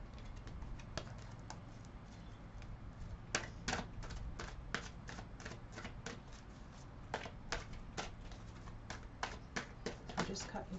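Tarot cards are shuffled and cut close by, producing quiet, irregular clicks and rapid papery snaps that come in short bursts over a faint background.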